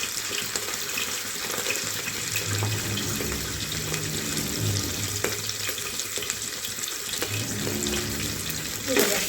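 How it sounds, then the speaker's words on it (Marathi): Fat sizzles steadily in hot oil in a pan, a continuous close hiss with faint crackles. "तेल गरम झाल्यानंतर ही थोडी चरबी आहे त्याच्यात आपण टाकू"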